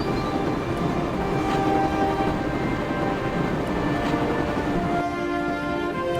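Train interior ambience from the video game Broken Sword: a steady, loud rumble of carriage and track noise with a faint hum, continuous throughout and free of speech.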